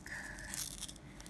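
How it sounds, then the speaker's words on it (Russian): A short, close tearing sound as a sticker on a small cosmetics packet is ripped, soft and brief against a quiet background. "смотрите, что я порвала немного наклеечку"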